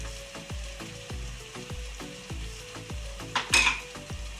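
Mutton curry frying in a pan as turmeric is stirred in, a steady sizzle broken by regular rhythmic scrapes of a spatula, ending in a louder clatter.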